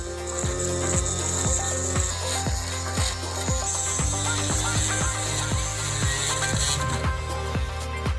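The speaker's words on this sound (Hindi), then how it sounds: "अब चलो एक पतली ड्रिल लेते हैं और सिलेंडरों को ड्रिल करना शुरू करेंगे" A thin drill bores into lock cylinders, whirring steadily with a regular series of grinding, clicking catches as the bit bites into the metal, close and continuous throughout.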